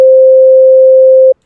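A basic synthesizer note, played clean with gate and drive switched off before a glitch plugin, holds as one steady, loud, pure midrange tone for about a second and a half, then stops abruptly.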